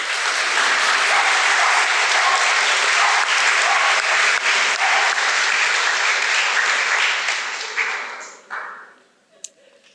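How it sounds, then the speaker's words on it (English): A large audience applauds at a residents' association annual meeting, dense sustained clapping at full volume for about eight seconds before it thins and fades to scattered claps and quiet. "I think Anthony deserves another round of applause."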